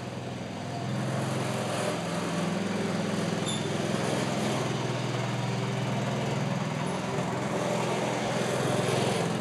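A homemade tractor built around a motorcycle engine runs steadily with a constant low engine drone and rattle, fairly close, and no talk over it.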